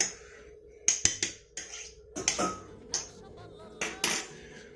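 Beaten egg whites being folded into koulitch batter, a spoon knocking sharply against the bowl in several clusters of clinks and taps over a low steady hum.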